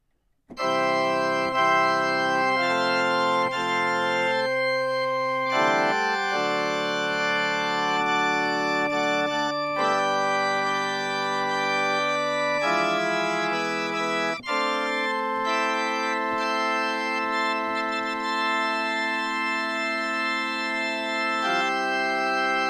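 A pipe organ on an American Classic three-manual instrument built after Schlicker sounds its Sharf mixture stop of three to four ranks together with all the principals: bright, dense sustained chords that shift through several changes, loud and full, with no voices.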